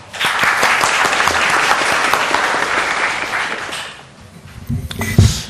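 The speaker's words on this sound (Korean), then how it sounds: "큰 박수 부탁드립니다" Applause from an audience at a parliamentary regulatory reform forum, dense sustained clapping that fades out toward the end, followed by a few louder close sounds.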